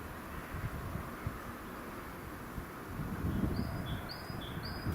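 Birds chirping outdoors on a cold evening, brief high tweets late in the clip, faint and distant over steady wind noise and low rumble.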